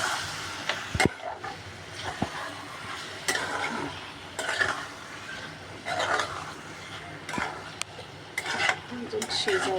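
Spoon scraping and stirring chicken liver masala in a pan, a steady run of rasping, clinking strokes close by with a faint sizzle underneath.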